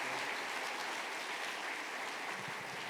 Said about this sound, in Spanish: Vamos a aplaudir para todos los hermanos que servían este tiempo de retiro.